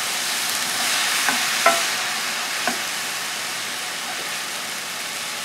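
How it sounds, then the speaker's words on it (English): A vegan lobster roll filling sizzles steadily in a hot pan while a utensil stirs it, adding a few soft scrapes and taps over the constant frying hiss. "And we'll give it a stir"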